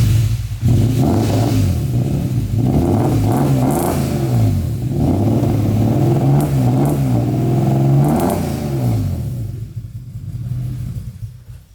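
BMW E30 engine revving through a new custom-built exhaust, loud rising and falling blips of throaty exhaust roar close by, settling and fading over the last couple of seconds.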